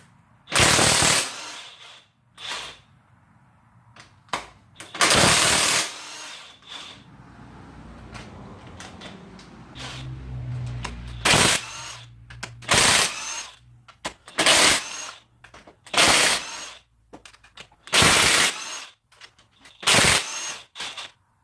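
Bursts of a power tool, likely an impact wrench, loosen 14mm cylinder head bolts on an LS Vtec turbo engine build, coming as loud repeated rattling blasts of a second or two each, separated by quieter gaps with faint mechanical handling.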